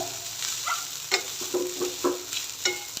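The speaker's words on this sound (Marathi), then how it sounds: "एक दोन मिनटं आपण असंच परतून घेऊया मीडियम टू लो फ्लेमवर" Lemon rice stir-fried in a pan over a medium-low flame, with a steady gentle sizzle and rhythmic scraping and tapping of a spatula, close and moderately loud, with no speech heard.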